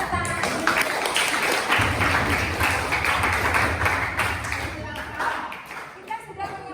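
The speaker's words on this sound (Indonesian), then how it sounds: "Tepuk tangan." A classroom of students claps for a few seconds after their group presentations, dense, fairly loud and close, with some overlapping voices mixed in.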